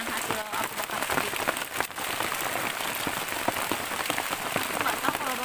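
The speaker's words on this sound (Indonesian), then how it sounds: "hujan deras banget, hujan dadakan" Heavy sudden rain pours down at a bushcraft campsite, a dense, steady wash of drops pattering on surfaces throughout, close and loud with scattered sharper splashes.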